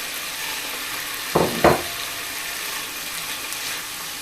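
King prawns sizzle steadily in a hot pan, and as spring greens go in, two quick loud hissing bursts rise over the constant close frying noise.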